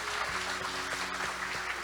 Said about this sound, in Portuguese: Quem recebe, diga amém e aplauda ao Senhor bem forte